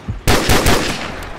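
Gunfire in Call of Duty 4: Modern Warfare, a loud sudden burst of close rapid shots that cracks in quickly and trails off into a decaying echo.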